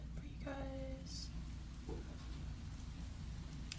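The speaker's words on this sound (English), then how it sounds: "in the middle of your walk it starts to rain" Steady rain hisses on an outdoor surface as it begins to fall, a dense continuous wash with a faint low rumble beneath and a few brief tonal blips, fairly close and without talk.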